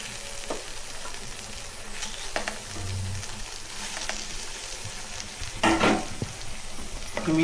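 Fish sizzles in masala in a hot pan, a continuous close frying hiss with scraping stirs and a louder burst of sputtering near the end.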